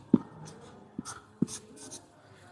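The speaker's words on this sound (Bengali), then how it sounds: "তাহলে এখানে আমি রনির নামটা লিখলাম।" A pupil's name is written on a classroom board with a few short, separate knocks and scrapes of chalk, close and fairly quiet, with soft room noise between them.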